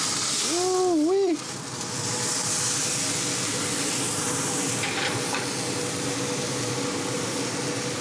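A cowboy steak sizzles over a direct flame on a pellet grill right after being flipped: a steady, close frying hiss that runs throughout, briefly topped at the start by a short high tonal squeal.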